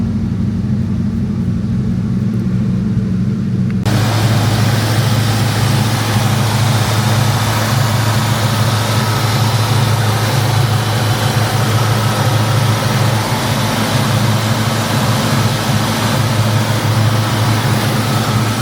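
A 1969 Ford Mustang Fastback idles loud and close after a cold start, a steady low engine rumble that sets in after a brief quieter lead-in and then holds constant with no talking.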